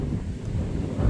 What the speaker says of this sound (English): Oh, we got a wicked wind right now.